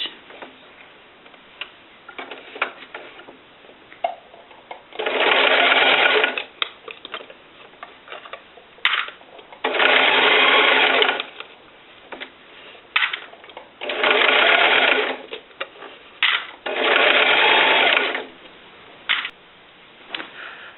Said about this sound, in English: you're just going to top stitch down that edge